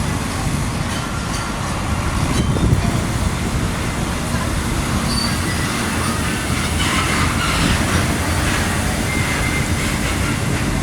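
A truck heading to Manila rumbles past on a road in Pagbilao, Quezon, a loud continuous roar with traffic noise, while a voice talks faintly underneath.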